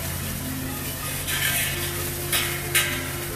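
Garlic being added to a hot pot for a crab boil gives a steady sizzle with a few brief bright clattering bursts as it is stirred, with no talking.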